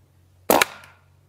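A Rossi Outlander air rifle fires a single 20.70-grain slug pellet: one sharp, loud crack with a brief tail, standing alone against a low background hum.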